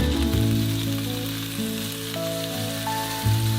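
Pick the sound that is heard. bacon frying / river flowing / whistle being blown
bacon frying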